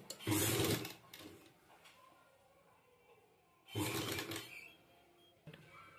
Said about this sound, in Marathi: त्याच्यात शिलाई टाकून घेऊ।